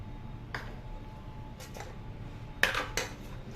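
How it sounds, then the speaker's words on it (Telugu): A spoon clinks and scrapes against a bowl as mango and pea muri mixture is tossed together, a few sharp close taps and scrapes over a quiet background. "బాగా కలుపుకుందామండి ఇవన్నీ. ఇలా బాగా కలపాలండి."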